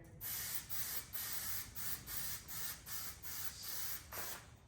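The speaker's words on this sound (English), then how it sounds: "I'm going to spray the crap out of it." Aerosol can spraying in short repeated bursts, about nine hissing puffs in a steady rhythm, close and fairly loud.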